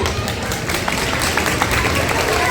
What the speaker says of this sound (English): Can we have a clap for them?